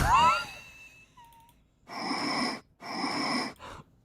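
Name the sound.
breathing sound effects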